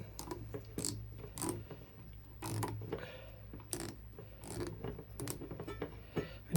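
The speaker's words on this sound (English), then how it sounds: "Make sure you don't cross thread these, and just screw it in until it's tight." Metal and plastic parts of a Lumary smart outdoor ceiling fan light being screwed together by hand until tight, heard as a series of close, irregular small clicks, scrapes and ratcheting twists with short pauses between turns.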